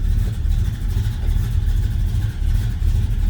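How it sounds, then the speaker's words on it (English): A 1974 Plymouth Road Runner with a 440 engine and a slightly lumpy cam idles steadily, a loud, close, low rumble that holds even for the whole stretch with no talk over it. "let's fire this thing up so you can hear it run"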